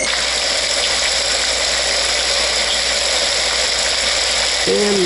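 Rain setting on a hotel room sound machine plays a constant, close, even wash of hiss and patter, with a brief faint tone near the end.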